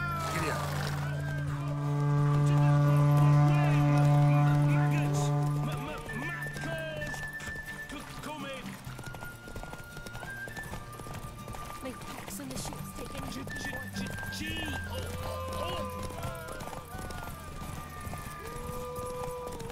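Horse galloping during a race in the video game Witcher 3, a steady rhythmic clip-clop of hooves with neighing at the start, heard under game music and a voice talking throughout.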